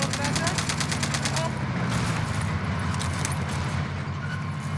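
Rapid bursts of video game gunfire in a tunnel rattle over a constant engine-like rumble, the shots fast and repeated in the first half, then thinning out.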